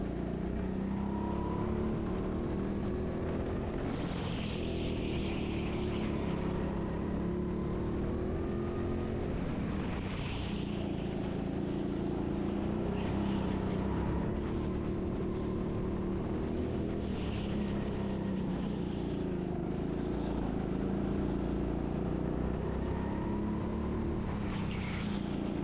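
A go-kart engine drones steadily as the kart laps the indoor track at TeamSport Sheffield, with a continuous loud motor hum that rises and falls slightly through corners and straights, no voices over it.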